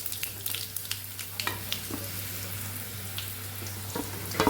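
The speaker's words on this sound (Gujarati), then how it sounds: "અને આપણે રોટલીને ઉમેરી દઈશું" Leftover roti pieces fry in oil with cumin, mustard seeds and asafoetida, a continuous crackling sizzle punctuated by scraping stirs and clicks of the spoon against the pan, close and clear.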